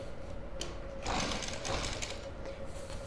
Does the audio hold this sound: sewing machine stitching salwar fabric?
yes